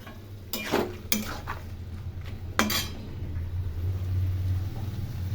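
Ginger, tomato and green chilli paste frying in a pan gives a low sizzle, with a few clear clinks of a spoon against the pan near the start. No one speaks.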